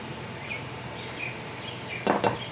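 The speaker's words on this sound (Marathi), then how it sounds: "इथे मी बरोबर मापून फुल भरून दोन टेबलस्पून कस्टर्ड पावडर टाकते" Two quick metallic clinks ring out as a tablespoon taps against a bowl while custard powder is measured in for homemade cookie dough, bright close strikes over a quiet kitchen background.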